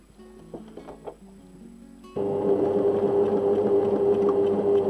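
Overlocker sewing machine stitching along a seam allowance: quiet handling clicks at first, then the motor kicks in with a loud, steady, close whirring hum that runs to the end.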